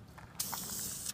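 Aerosol spray paint hissing onto a car oil pan: a short puff, then a sustained close spray burst that cuts off sharply, with no talking.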